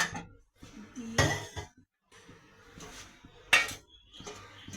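A metal plate is set down over a cooking pot of Bengali fish curry with cauliflower stalks, potato and lentil dumplings, giving a few close clanks and clinks of metal on metal with quiet gaps between them.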